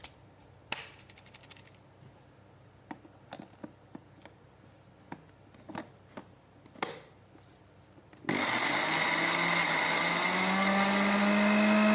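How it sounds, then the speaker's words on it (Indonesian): Shrimp shells tumble and rattle in an electric blender with scattered knocks and scrapes, then the motor kicks on loud and steady, grinding the shells with a rising whine for the last few seconds. "Kita bisa melepas dulu blender kemudian mengocok isinya agar isinya turun dan kulit udang bisa di blender lagi."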